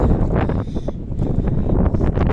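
Strong wind roars and buffets the microphone, a loud continuous gusty rumble with no voices.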